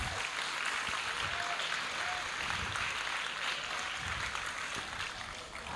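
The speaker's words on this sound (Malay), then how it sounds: "saya nak semua orang beri tepukan gemuruh kepada 2 orang ni." Applause from students at a school assembly in a hall, a continuous broad wash of clapping that holds level for several seconds without speech.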